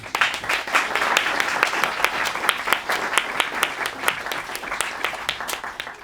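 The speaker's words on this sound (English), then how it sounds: "So let's just give them a big round of applause." An audience gives a sustained round of applause at a summer music showcase, with dense, steady clapping from many hands that carries on for several seconds and holds close to a constant level throughout.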